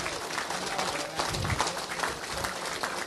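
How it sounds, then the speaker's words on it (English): An audience at a city council meeting in La Verne gives a steady round of applause, a dense wash of clapping from a crowd throughout, with faint voices beneath. "Again, another round of applause."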